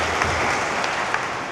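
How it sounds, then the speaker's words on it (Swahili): Applause from a church congregation in the parish hall at Salasala, a steady dense wash of clapping from many hands filling the short moment, fairly loud and without voices. "Naomba mjipigie makofi wanaume wa Salasala,"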